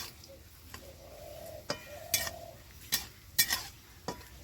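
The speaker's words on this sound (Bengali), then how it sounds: "আমি হালকা করে ভাজবো" Soft sizzling of whole spices, cardamom and bay leaves, lightly frying in a pan with a spoon stirring and clinking against metal, several sharp scrapes scattered over a steady low hiss.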